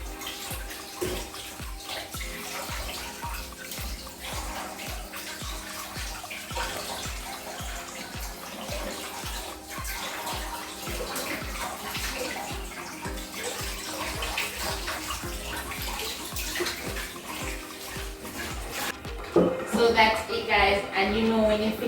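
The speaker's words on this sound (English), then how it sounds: "Just run it through the water, so the water can help to clean out all of that that's in the fish right here." Tap water pours steadily over fish in a kitchen sink while it is rinsed for Jamaican-style steamed fish, a continuous close splashing rush that lasts the whole stretch, with a voice talking over it and a brief louder surge near the end.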